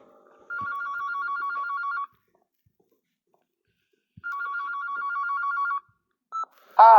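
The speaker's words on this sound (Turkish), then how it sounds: "Telefon çalıyor." A telephone rings in two clear bursts of repeated electronic trills, each lasting about a second and a half, separated by a long silence, followed by a brief sharper tone and a loud sound at the end.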